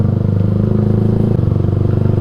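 Yamaha MX King 150 motorcycle fitted with a Rob1 TGA exhaust idling close up, a loud, steady, rapid thumping beat with a slight dip in pitch partway through.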